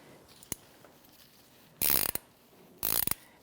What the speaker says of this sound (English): And my 18 ratchet wrench